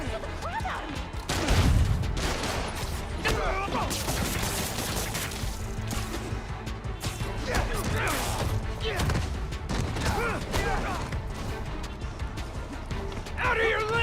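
Gunfire and crashing impacts from a Spider-Man video game, with bursts of shots and smashes spread through a dense, busy mix under game character voices and music.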